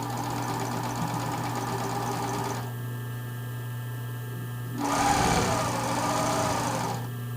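A home sewing machine stitches the neckline and armhole of a tank top in two steady whirring bursts, a long run, a short pause, then a louder second run, close by with no talk.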